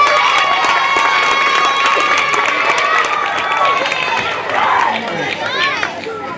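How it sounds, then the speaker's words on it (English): A crowd at an elementary school awards ceremony cheers and shouts steadily, with children's voices prominent and some clapping mixed into the dense, continuous roar. "One more round of applause for all of our Core Specials Awards"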